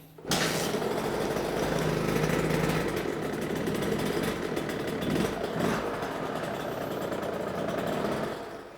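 KTM 65cc two-stroke dirt bike with a freshly rebuilt top end starts abruptly and keeps running, a loud, close, buzzing high-revving engine with small throttle surges, no talk.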